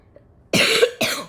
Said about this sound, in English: By the way, I'm about to cough